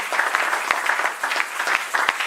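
Congregation applauding a preacher at a French-language church service, a steady dense wash of clapping with a few sharper claps standing out, fairly loud and continuous throughout.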